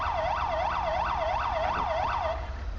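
A wailing ambulance siren in the video game GTA 5 cycles up and down steadily about seven times at night, fairly close and clear over a low engine rumble, with no voices.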